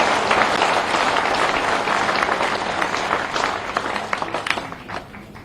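A crowd at a political rally applauds, a dense sustained burst of clapping that slowly tapers toward the end.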